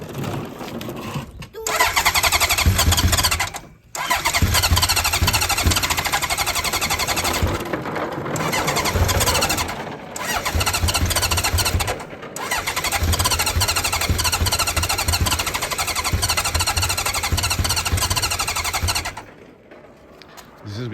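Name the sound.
Honda CB900F motorcycle engine cold starting without choke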